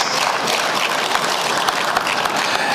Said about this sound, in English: Please, a round of applause for your good selves.